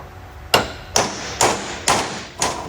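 Five evenly spaced metallic hammer blows drive a U-joint into place on a homemade Megacab pickup, each strike close and distinct with a short ringing decay, no talk.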